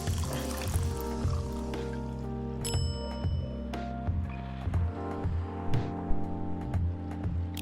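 Milk pouring in the coffee-brewing game Coffee Talk, a soft synthetic trickle over steady background music with light clicks and chimes.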